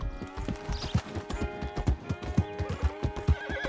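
Rhythmic hoofbeats of a horse at a steady gait in Red Dead Redemption II, evenly spaced and close, with a short neigh near the end.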